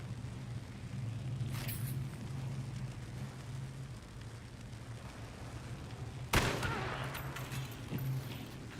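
Gunfire in the game Hunt: Showdown: one faint distant shot, then a louder sharp crack later, both over steady rain-like hiss and low hum.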